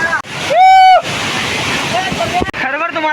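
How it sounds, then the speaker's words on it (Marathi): Savatkada waterfall roaring as a steady, loud wash of falling water, close by, with voices and shouts cutting through it at times. "आणि हे धबधबा बघणार काय मस्त आहे."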